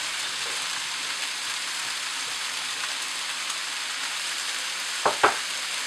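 Frozen corn, broccoli and carrots fry in a pan with a bacon mix, giving a steady, soft hiss of sizzling, ending with a couple of sharp clatters near the end, with no talk.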